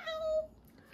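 A woman imitates a cat with a single thin, high meow, a short rising-falling call that fades after about half a second, heard alone and close.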